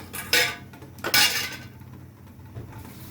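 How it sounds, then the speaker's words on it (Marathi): Ground masala paste tipped into a hot kadhai for a veg handi, with utensils clinking against the pan: two short, bright clattering bursts close by, followed by quieter scattered clinks. "कढई गरम करायची, त्याच्यामध्ये वाटण डायरेक्ट टाकायचं"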